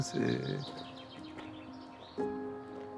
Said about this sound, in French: Là, on entend les oiseaux, c'est quelque chose qui existe